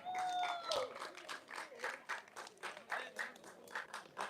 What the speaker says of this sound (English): As they give a round of applause to the coaches as well